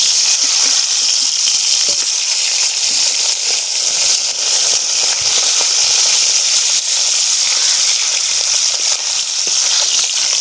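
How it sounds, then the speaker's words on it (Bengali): Fish frying in a kadai over village cooking heat, a dense, continuous loud sizzle with faint crackles and small scraping stirs throughout, no voices. "বাকি মাছগুলো ভাজা হয়ে গেছে, তুলে নেব।"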